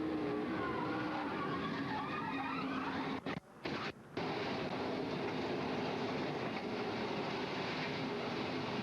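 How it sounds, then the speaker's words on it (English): Onboard roar of Greg Biffle's race car at the 2001 Busch Series Hills Brothers 300 in Chicago, a loud steady engine and wind drone broken by abrupt cutouts and jolts mid-crash, then continuing rough rumble. "A vicious crash for Greg Biffle"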